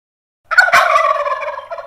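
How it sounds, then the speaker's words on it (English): A turkey gobbles once, close and loud, a short burst of rapid warbling calls that fades quickly. "a turkey gobble."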